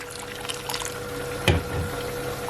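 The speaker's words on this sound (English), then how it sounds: "I'm adding water from my kettle." Water from a kettle is poured into a mixing bowl in a home kitchen, a soft, steady liquid pour with a brief louder splash midway, close and fairly quiet.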